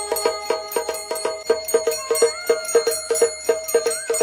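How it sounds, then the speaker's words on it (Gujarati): An automatic Bluetooth jhalar aarti machine striking its bells, a rapid ringing metallic strike repeated at a steady mechanical rhythm, clear and close with sustained tones between hits and no voices. "આરતી કે ભજન વગાડવા માટે બ્લૂટૂથ વાળા ઝાલર મશીન મળશે કે જેમાં શંખ, મોર અને કોયલનો અવાજ અને ઘંટડી અને ઢોલ પણ વાગશે"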